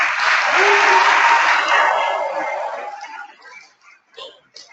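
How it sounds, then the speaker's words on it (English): Audience applause at a success workshop, loud and broad from the start, then fading over the last seconds into scattered claps and a few voices. "an even bigger round of applause."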